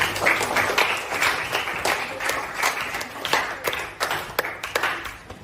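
A room full of people applauds steadily, the clapping dense and continuous with a few sharper claps standing out.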